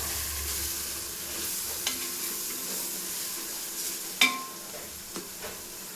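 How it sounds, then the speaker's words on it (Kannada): Garlic ginger paste for vegetable pulao sizzles steadily in a hot pan while a spoon stirs and scrapes it, with occasional metallic knocks against the pan, close and continuous, no talking. "ಈಗ ಚೆನ್ನಾಗಿ ಅದನ್ನ ಮಿಕ್ಸ್ ಮಾಡಿ ಇಟ್ಕೋಬೇಕು"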